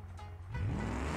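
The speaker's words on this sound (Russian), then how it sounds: "пожалуйста, ну не газуй ты так жестко" A car engine in BeamNG.drive revs hard, rising from a low idle into a loud, climbing growl over about a second.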